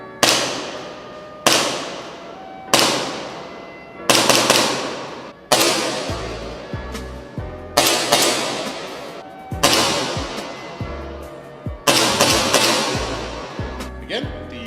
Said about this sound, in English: I am shooting the Acetech Lighter-R in green mode, shooting the BLS .25 green tracers.